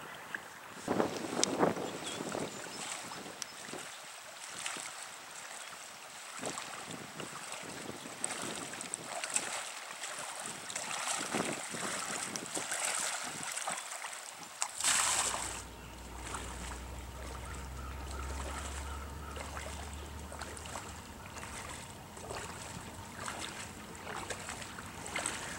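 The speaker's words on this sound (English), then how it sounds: "Have to start paddling again." Paddle strokes from a kayak on the Ohio River, splashing irregularly under steady wind buffeting the microphone. A low, steady droning hum joins in partway through.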